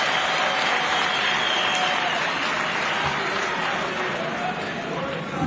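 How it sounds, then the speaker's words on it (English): Large audience at a local government meeting at Mulungushi International Conference Centre applauding councillors, loud sustained clapping with crowd murmur and chatter mixed in throughout. "May we clap for these councillors who are holding the fort for us."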